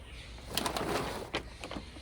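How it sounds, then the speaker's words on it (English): Wild birds at a backyard feeder give soft cooing calls, a few brief notes in quick succession, fairly faint against a quiet outdoor background. "You hear those birds?"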